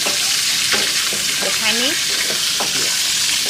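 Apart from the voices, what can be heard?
frying food in coconut water in a pan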